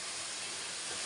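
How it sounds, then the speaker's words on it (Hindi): A pressure cooker hisses steadily with escaping steam while biruda cooks in a village kitchen in the hills, a continuous loud broadband hiss with no break. "इधर अभी कुकर में भी बन रहे हैं"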